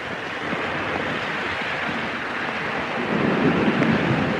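Steady heavy rain pours during a thunderstorm, a dense continuous wash that swells slightly louder toward the end, with no voices.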